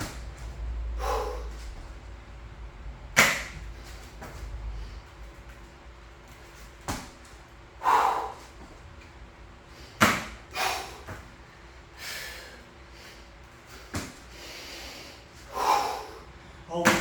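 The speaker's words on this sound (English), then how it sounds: "Always breathing." Heavy, sharp breaths and snorts from a person doing athletic push-ups in a garage workout, coming in irregular bursts every couple of seconds against a quiet room, close to the microphone.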